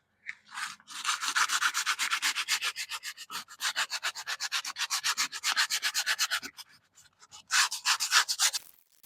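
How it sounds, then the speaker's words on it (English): Rhythmic back-and-forth scraping of 120 grit sandpaper over Bondo wood filler on exterior wood siding, close and steady in long strokes, with a brief pause before a final burst of rubbing. "we're going to use a 120 grit sandpaper, sand this down"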